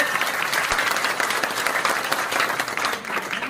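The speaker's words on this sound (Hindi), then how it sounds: "एक बार जोरदार तालियां बजाकर आशा मीना जी का स्वागत करेंगे।" Loud, dense clapping from a rally crowd welcoming Asha Meena, a continuous wash of many hands that holds steady with no voices over it.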